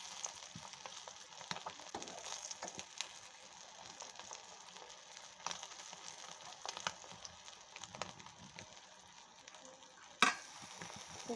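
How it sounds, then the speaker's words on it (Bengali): Fish frying in a pan at home gives a quiet, continuous crackle and sputter with small pops throughout, and one sharper clatter near the end. "তো মাছগুলো ভাজা হয়ে যাচ্ছে।"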